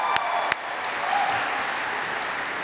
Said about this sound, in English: Let's give them applause, guys.